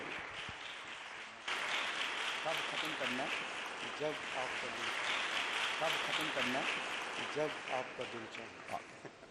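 A church conference audience breaks into steady, loud applause to welcome a pastor to preach, the clapping starting abruptly and holding for several seconds with a faint voice beneath it.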